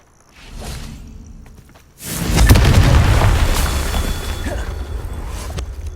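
A Confringo blasting spell explodes in the Hogwarts Legacy video game, opening with a faint whoosh and then a loud deep boom that rumbles and slowly fades.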